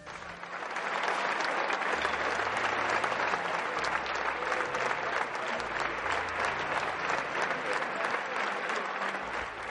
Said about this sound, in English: As communion ended, the congregation began to clap.